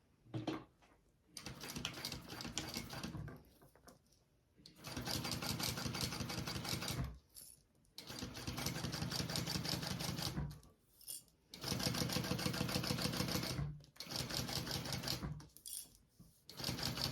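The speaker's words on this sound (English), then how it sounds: "And then we'll baste that on top of the pocket that we just put on." A sewing machine bastes a pocket onto vinyl in several bursts of steady rapid stitching. Short pauses separate the bursts, and no one speaks.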